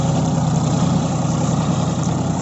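A John Deere 5050D 4WD tractor plowing a field produces a loud, steady, close low engine drone with no break and no voices.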